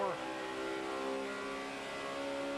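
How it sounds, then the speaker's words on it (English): A 2009 NASCAR Sprint Cup race car at Darlington during Southern 500 practice, its engine held hard on the throttle in a loud, sustained, steady roar with a voice talking over it. "You're back in the throttle hard off turn 4"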